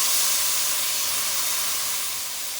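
Chicken drumsticks sizzle in a hot pan for soup, a loud, steady hiss of frying close by that fades slightly toward the end.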